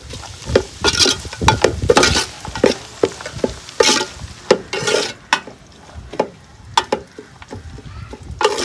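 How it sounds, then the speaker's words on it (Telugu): Ginger and garlic go into frying onions and are stirred hard, giving a close, rhythmic run of spatula scrapes and clacks against the pan over a bright sizzle. "అల్లము ఎల్లిపాయ అయితే మాత్రానికి వేసిన తర్వాత ఇట్లా బాగా కలుపుకుందామండి"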